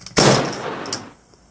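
A Rockoh T-3 toy launcher fires a spinning ball with a sudden loud burst, followed by a whooshing, decaying release that fades after about a second, heard alone.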